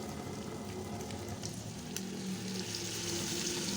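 A ginger, garlic and tomato paste sizzles in the pan for a desi chicken karahi, giving a steady close hiss with a few light stirring sounds.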